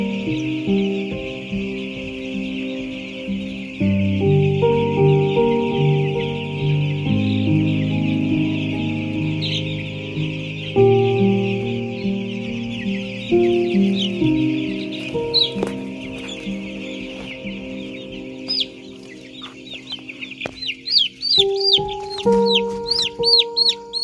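Young poultry chicks on a chicken farm peep and chirp steadily in a dense chorus, with brief louder cheeps rising near the end, no talk.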